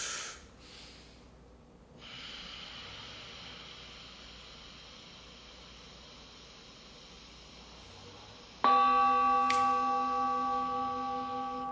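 Slow, breathy inhales and exhales from a deep breathing exercise, faint and close, followed by a sustained electronic tone that enters loudly near the end.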